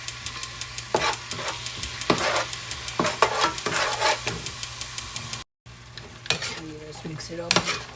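Chicken curry with masala and salt stirred in a pan, the spoon scraping and clacking in a steady rhythm over a continuous loud sizzle; a short silent gap, then more stirring and sizzling.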